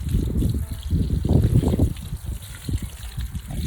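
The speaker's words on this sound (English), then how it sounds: "and water this down here." Water pouring onto garden soil around thirsty vine plants and root vegetables, a close, steady gushing trickle from a hose or can that swells and eases over a few seconds.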